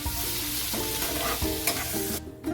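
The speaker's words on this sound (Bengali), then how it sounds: "রসুনটা আমি হালকা লাল লাল করে ভেজে নেব।" Crushed garlic frying in a pan until lightly reddened, a steady close sizzle with intermittent stirring scrapes and a brief quieter gap near the end, no voices.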